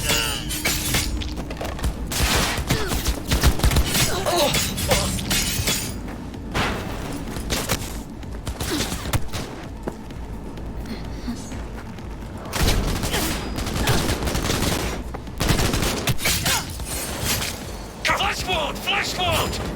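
Rapid gunfire bursts from the Cyberpunk 2077 video game, loud and repeated in clustered volleys with sharp crackling impacts, mixed with game sounds and voices talking over the shooting.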